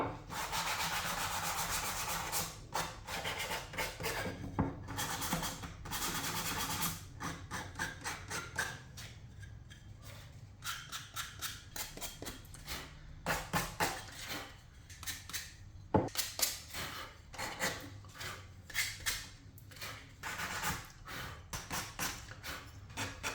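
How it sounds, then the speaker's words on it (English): Sandpaper rubbing steadily over wood while building a kitchen tea station: continuous close scratchy strokes in an uneven back-and-forth rhythm, moderately quiet, with no talking. "Grab yourself some sandpaper."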